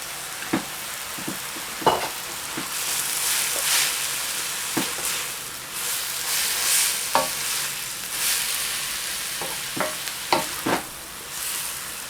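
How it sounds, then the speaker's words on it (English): Noodles stir-fried in a hot pan for a Chinese-style dish, a steady sizzle broken by sharp scraping and tapping of the utensil at irregular intervals, close and fairly loud. "Going to add in our noodles."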